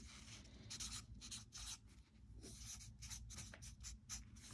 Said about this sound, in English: So I'll write it over here.